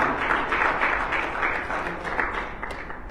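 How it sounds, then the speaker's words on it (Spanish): A church congregation applauds during a Sunday sermon, a steady wash of many hands clapping together that fills the space for a few seconds and slowly tapers off, with no voices on top. "¿Cuántos dan un aplauso a esa declaración de Jesucristo?"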